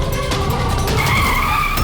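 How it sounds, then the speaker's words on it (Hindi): A car skids to a sudden stop, with a sustained tire squeal rising over steady road noise for nearly two seconds, loud and close. "गाड़ी क्यों रोक दी?"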